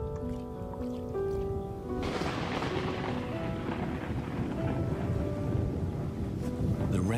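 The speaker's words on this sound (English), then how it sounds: "Rainstorm brings healing and relief to the land and the lions." Heavy rainstorm pouring over lion country, a dense steady roar of rain and wind that swells in abruptly after a couple of seconds of quieter tonal background and then holds loud and continuous.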